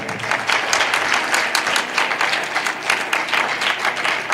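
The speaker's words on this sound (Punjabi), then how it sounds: "ਤਾਲੀ ਮਾਰੀਏ ਜ਼ੋਰ ਦੇ ਕੇ।" A church congregation claps loudly and steadily during a sermon, a dense, rhythmic wall of hand claps filling the whole stretch with no talk over it.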